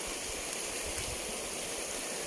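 A creek in the Philippine countryside flows with a steady, even rush of water close by, with no pauses and no talk.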